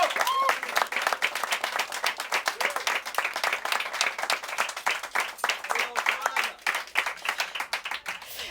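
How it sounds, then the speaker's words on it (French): Audience applause fills an orchestral concert hall after a performance with orchestra: dense, steady clapping from many hands that stays fairly even throughout, without cheering on top. "moi en tout cas j'ai envie de l'applaudir"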